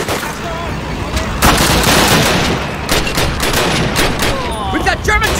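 Heavy gunfire in Call of Duty: United Offensive, a loud sustained fusillade of rifle and machine-gun bursts with explosive cracks, dense and close, with shouted voices in the mix.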